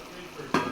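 Vegetables hit a hot pan and begin sautéing for leftover-dish fried rice: quiet kitchen background, then a sudden loud sizzle bursts in near the end and keeps crackling.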